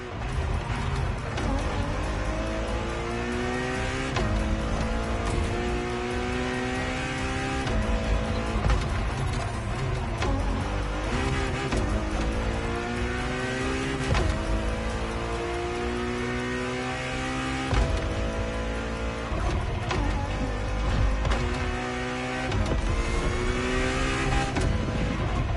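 Ferrari's road-legal Formula One car races in The Crew Motorfest, its engine screaming loud and close through constant rising and falling revs with repeated upshifts, no voices over it.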